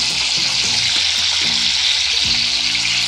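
Cumin and finely chopped tomatoes sizzle steadily in hot oil for a vegetable tempering, a loud, continuous close-up hiss with some low tonal sounds beneath and no speech.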